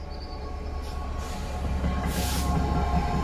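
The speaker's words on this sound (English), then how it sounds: "Every now and then you may even get a little disturbance while you're filming, and a train passes by." A train rumbles past beside a canal with a low, continuous roar and rising rattle of wheels on track, growing louder toward the end.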